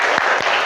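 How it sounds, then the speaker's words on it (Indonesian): A class claps together in a brief spirit clap, producing dense, loud clapping that stays strong throughout. "Tepuk semangat."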